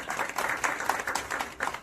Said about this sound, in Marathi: आधी त्यांचं जोरदार आपण टाळ्या वाजवून स्वागत करू.